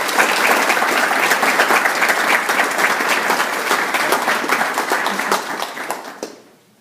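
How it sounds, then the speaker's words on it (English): An audience at a leadership award ceremony gives a sustained round of applause, loud and dense clapping that fills the room for several seconds before fading out abruptly. "help me thank these fine people with a round of applause."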